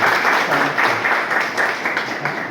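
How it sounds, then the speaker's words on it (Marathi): Steady, loud applause from an audience at a skills-training event, many hands clapping continuously throughout with no pause. "एका जोरदार टाळ्या"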